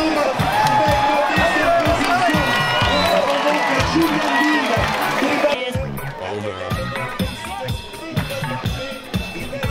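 A crowd at a cycling yellow jersey ceremony cheers and applauds loudly, a dense roar under music and voices that thins into scattered claps and shouts.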